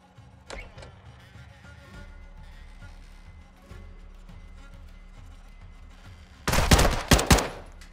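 Gunfire in Call of Duty: Modern Warfare II, scattered quieter shots and movement sounds, then a loud close burst of rapid automatic fire near the end.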